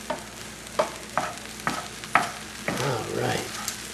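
A spoon scrapes and stirs caramelized onions, mushrooms and garlic in a hot sizzling pan, with four distinct knocks followed by a longer scraping stir over a steady frying hiss.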